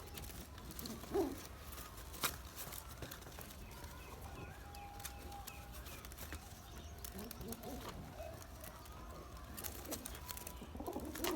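Pigeons coo softly and intermittently against a quiet background, with a few faint clicks and small bumps nearby.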